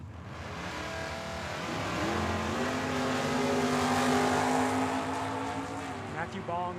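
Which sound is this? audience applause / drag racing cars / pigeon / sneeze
drag racing cars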